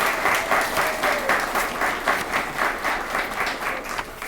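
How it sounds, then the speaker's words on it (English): Sustained applause from a crowd at an awards ceremony, steady dense clapping throughout with no voices over it. "let's give all the recipients a round of applause"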